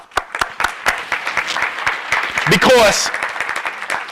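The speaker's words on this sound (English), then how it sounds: "I want to say give yourself a round of applause." An audience of parents applauds at a school speech event, a loud burst of dense clapping that carries through while someone speaks over it and a cheer rises briefly near the end.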